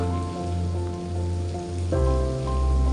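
Onions fry in a pan for a Mymensingh-style chapa fish dish, a soft, steady crackling sizzle heard up close with a low electrical hum behind it and no talking.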